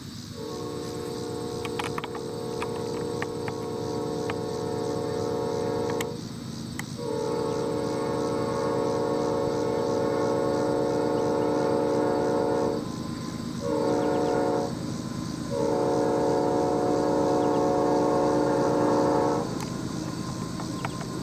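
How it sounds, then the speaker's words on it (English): A Nathan P5 train horn sounds repeatedly in long blasts at a distance, growing louder over the low rumble of an approaching Norfolk Southern Triple Crown RoadRailer train. "we heard the Nathan P5 horn in the distance, and our train grew closer."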